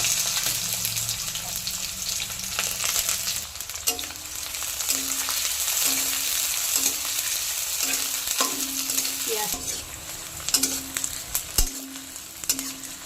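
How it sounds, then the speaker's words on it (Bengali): Chopped onions frying in hot mustard oil with black cumin, a steady close sizzle under repeated rhythmic scrapes of a spatula stirring the pan, no talking. "পেঁয়াজটা একটু সোনালি রঙের কালার করে ভেজে নেব"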